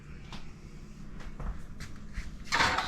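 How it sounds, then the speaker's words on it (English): An oven door swings open with a soft creak and a bumping clunk, then a brighter metallic rattle toward the end, close and fairly quiet. "I'm going to open my oven door."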